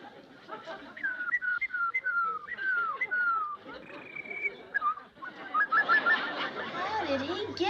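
A man whistles birdlike chirps and warbling trills in short repeated phrases, imitating a bird, then a few rapid chirps, moderately close with faint background noise.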